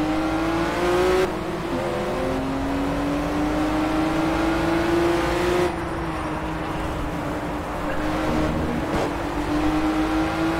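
A BMW 1 Series Coupé races in the video game Project Cars, its engine droning steadily and loudly, the pitch climbing and resetting with gear changes.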